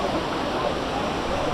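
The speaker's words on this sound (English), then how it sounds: "Waterfall, Ourika." The Ourika waterfall near Marrakesh gives a steady, loud, even rush of falling water, a brief unbroken wash of noise with no voices.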